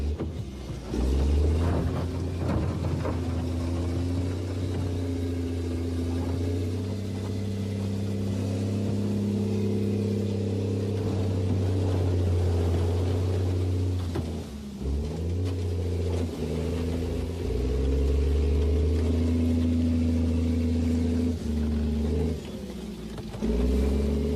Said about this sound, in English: The Royal Engineers CET Combat Engineering Tractor is the bulldozer for the job.